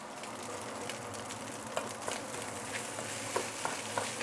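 Prawns, optionally marinated in fish sauce or salt, sizzle steadily in a hot pan for Thai fried rice, with a continuous close crackle and a few sharper pops and stirring clicks.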